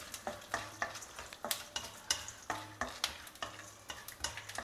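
Chana dal and cumin seeds sautéing in a pan: a spatula scrapes in a quick, regular rhythm over a continuous sizzle, close and clear with no talking.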